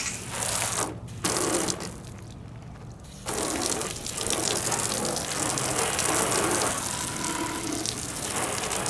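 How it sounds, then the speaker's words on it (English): A car wash foam cannon sprayer on its lowest foam setting shoots water in loud, gushing bursts with brief pauses, then sprays continuously. "So it looks like the head is shooting the water up a little"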